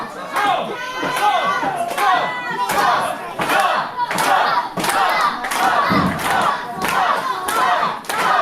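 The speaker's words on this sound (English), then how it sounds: "Crowd making some noise now for Tom Barron" Wrestling fans at a live independent show roar, chant and shout around the ring in a dense, sustained crowd noise, with thuds from the ring and a commentator talking over it.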